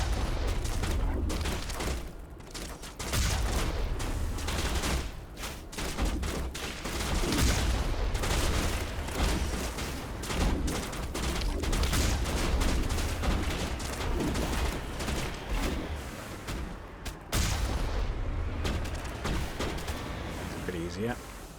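Dense, continuous gunfire and booming blasts come from the Mako vehicle in the Mass Effect video game as it shoots at enemy snipers, with a voice talking over the barrage.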